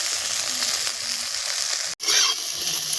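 Okra (bhindi) fries in hot oil with a dense, continuous sizzle, broken by a brief silent gap and then a brighter surge of crackling.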